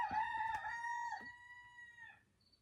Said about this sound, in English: I've never been able to tune out this many rooster crows.